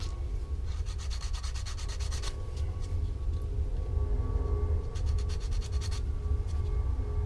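Sandpaper rubbed over the injection-molded plastic body of an AMT Ford Thunderbird model kit, giving steady rasping strokes in two close bursts of rapid back-and-forth scrubbing over a constant low background hum.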